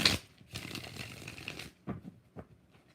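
A tarot card deck being shuffled by hand at close range: a sharp riffle, a longer rustling burst of cards, then several short, soft taps and flicks as the deck is squared.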